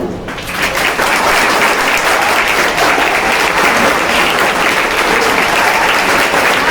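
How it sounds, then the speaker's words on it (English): Sustained applause from a school audience for student performers at a declamation competition, dense and steady clapping filling the room from start to finish. "And you must give a big round of applause for them."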